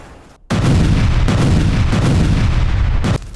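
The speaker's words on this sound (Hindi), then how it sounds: "ऑयल साइट पर अचानक विस्फोट हो गया।" A large explosion at an oil site in Samara, Russia erupts suddenly as a loud, sustained roaring blast that fills the scene for nearly three seconds before dropping away.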